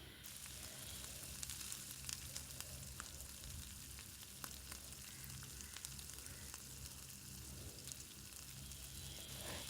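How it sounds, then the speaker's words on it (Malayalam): Okra and green chillies sauté in a hot pan with a continuous, even sizzle and faint crackles, a quiet, steady frying hiss close by with no one talking. "ഇനി നമുക്ക് നല്ലതായിട്ട് ഇതൊന്ന് സോട്ട് ചെയ്തെടുക്കാം"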